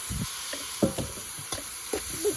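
Green chilies, curry leaves and large onion sautéing in a pan, a soft, steady sizzle broken by several light scraping stirs close by.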